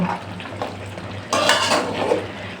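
Beef is stirred with spices in a pot, a utensil scraping and clattering against the metal over a low sizzle that grows louder partway through.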